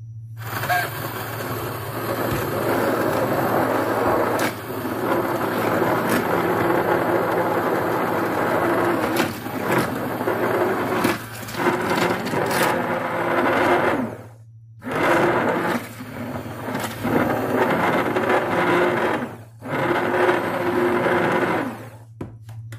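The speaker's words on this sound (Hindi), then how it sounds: "मेरे पास हैंड ब्लेंडर है, मैं इसको हैंड ब्लेंडर से ब्लेंड कर लूँगी।" A hand blender blending tamarind and plum fruit pulp whirs steadily and loudly for most of the stretch, with two brief pauses where the motor cuts out before starting again.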